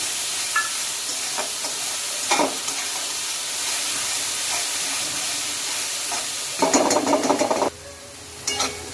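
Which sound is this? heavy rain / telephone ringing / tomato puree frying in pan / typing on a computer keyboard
tomato puree frying in pan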